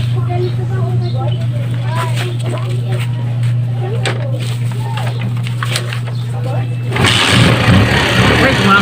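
A motorcycle engine runs after a tune-up, a steady low idle hum under birdsong and a speaking voice, then the engine revs up louder and rougher for the last couple of seconds.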